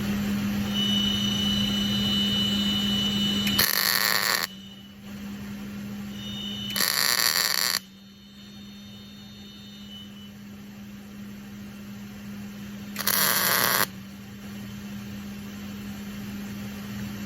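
Tack welding on a steel stake stand base, three separate short bursts of loud crackling arc spaced a few seconds apart over a steady machine hum, with no talk.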